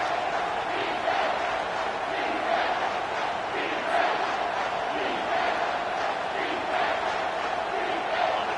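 A stadium crowd in the NCAA 24 college football video game roars steadily and loudly throughout, a dense unbroken wall of cheering and yelling.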